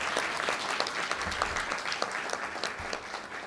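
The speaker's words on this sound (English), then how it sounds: "can we give a round of applause" A room of attendees at a county and college press conference on the lithium industry breaks into sustained applause, a thick wash of many hands clapping at once that continues evenly throughout.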